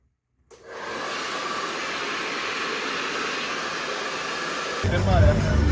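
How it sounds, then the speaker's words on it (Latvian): A hair dryer blasting air to dry boots indoors, switching on abruptly and then running as a steady loud whoosh, with a brief low rumble and handling noise near the end. "Fēns, žāvējam botas."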